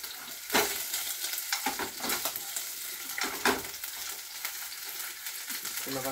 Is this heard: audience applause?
no